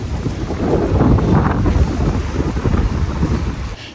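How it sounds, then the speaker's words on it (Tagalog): Steady cold wind gusts on Taiwan's north coast, buffeting the microphone with a loud, continuous low rumble that swells and eases over a few seconds, with no voices. "Lamig ng hangin."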